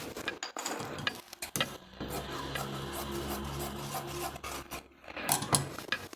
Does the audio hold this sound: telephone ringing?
no